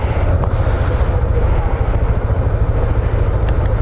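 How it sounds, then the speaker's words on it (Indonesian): A Yamaha motorbike warms up at a roadside stop in Banten during a touring ride, giving a steady low engine rumble. Wind buffets the microphone throughout and no one talks. "Sambil manasin motor."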